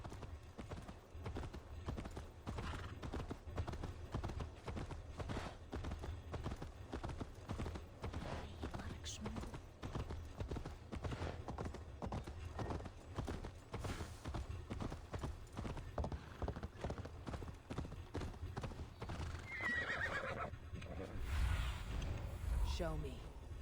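A horse in Assassin's Creed Valhalla gallops along in a quiet, steady rhythm of clip-clop hoofbeats that runs through the whole stretch, with a brief louder burst near the end.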